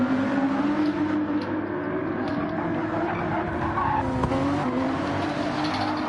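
In a GT Challenge racing game, a Porsche slides with a steady engine drone and sustained tire squeal, a continuous close skid with no talk.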